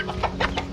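Chickens cluck by a chicken coop in a crowded village lane, with several quick, close clucks over a busy background hum.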